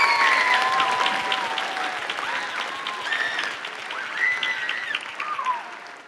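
Commencement crowd applauding singers at a university graduation, loud sustained clapping with cheers and whoops rising above it, easing off near the end.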